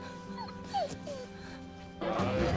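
A newborn puppy, just delivered by its mother during a whelping, gives several thin, high whimpers and yips, soft and close, followed by a burst of rustling movement near the end.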